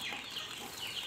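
Soft, brief clucking from a rooster amid a faint farmyard background, with quiet chatter of birds and no voices.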